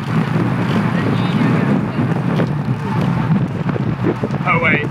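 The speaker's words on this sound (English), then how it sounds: "It's quite windy" Steady wind buffeting a microphone outdoors while riding a road bike in Mallorca, a loud continuous low roar with gusty fluctuations throughout.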